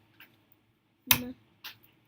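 A sharp single clap on metal, loud and close, with two faint clicks before and after, in a classroom lesson clapping out word syllables.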